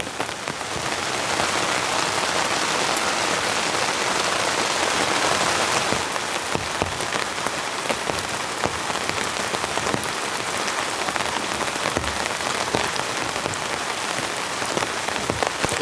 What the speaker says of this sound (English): But it's like a full-blown rainstorm now.